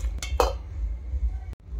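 Roasted makhana and other dry-fruit ingredients dropped one by one into a blender jar for a smoothie, giving a few short, close clinks and light knocks against the jar with quiet pauses between them.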